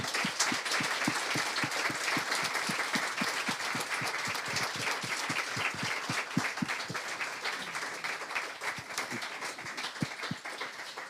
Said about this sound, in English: I would like you to give them all a very warm applause.